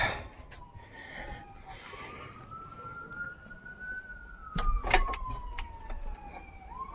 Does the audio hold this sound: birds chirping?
no